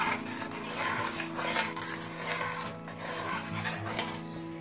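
A spoon scrapes and rubs around a pot of boiling red lentils, rice and vegetables, making a steady, quiet grating and stirring noise close by.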